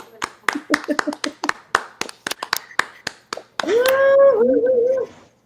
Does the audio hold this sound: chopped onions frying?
no